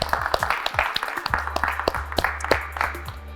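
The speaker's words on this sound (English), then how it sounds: "We'll give him a clap." Applause for finalist Jake Lindsay at the Hashtag Academy series final, a small group clapping in quick, uneven bursts that carry on steadily for a few seconds with no talk.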